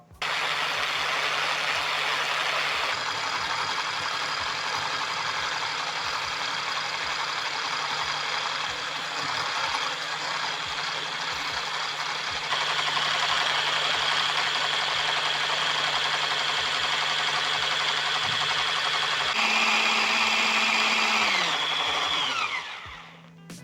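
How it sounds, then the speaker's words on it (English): A hand blender whirs loudly and continuously for a long stretch whipping instant coffee, sugar and water into dalgona coffee, its motor pitch shifting slightly as it works, then winds down at the end. "Using my hand blender, I'm going to whip up the coffee, sugar, and water until very frothy."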